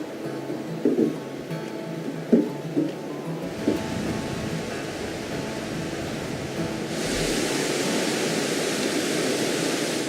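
Creek water rushes in Evolution Valley on the John Muir Trail, a steady broadband roar that grows louder partway through, with a few soft knocks early on.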